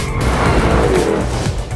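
C8 Corvette, 992 Carrera S and 2021 Toyota Supra drag racing at a test track, a short loud burst of engine roar and tire noise, close by.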